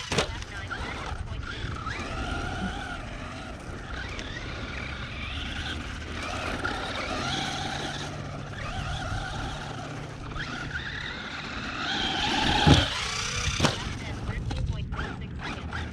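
A Traxxas Rustler 4x4 VXL RC car drives laps on a track, its electric motor whining steadily and rising and falling in pitch as it speeds up and slows down, with a voice talking over it throughout.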